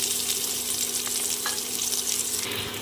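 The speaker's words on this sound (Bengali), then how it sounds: "কড়াইয়ে তেল গরম করে দিয়ে নিয়েছি দিয়ে দেবো দুটো মাঝারি সাইজের পেঁয়াজ কুচি" Chopped onion, two medium onions, frying in hot oil in a wok, giving a steady, even sizzle and hiss that runs without a break for about three seconds, with no talking.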